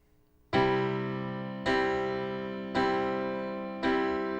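Four piano chords struck evenly about a second apart with the sustain pedal down, each ringing on and blending into the next, close and alone.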